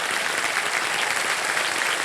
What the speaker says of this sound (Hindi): तालियां बज जाएं श्रद्धा जी के लिए